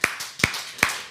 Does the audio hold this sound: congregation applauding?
yes